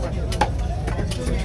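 A black pomfret's head being chopped off at a Bangladesh fish market, a few sharp close blade strikes on a board over market bustle and talking.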